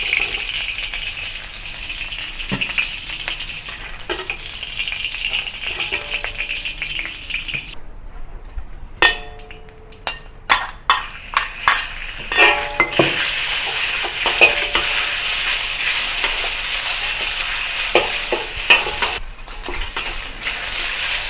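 Pork frying in a hot wok for longevity noodles, a loud continuous sizzle with repeated scraping and clanking of a spatula, a brief pause midway before a fresh burst of hissing and stirring.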